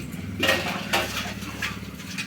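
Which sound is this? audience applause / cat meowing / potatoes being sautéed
potatoes being sautéed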